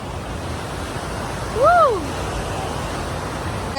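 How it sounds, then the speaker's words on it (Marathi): Waterfall pouring with great force, a steady, loud broadband roar of rushing water lasting throughout, with a brief rising-and-falling whistle-like tone briefly cutting through midway. "पाणी खूप फोर्समध्ये आहे"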